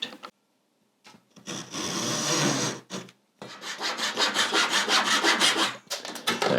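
Rosewood being worked by hand with a file or rasp on a custom instrument rebuild, giving close, loud back-and-forth rasping strokes in two bursts separated by short pauses, with no talking.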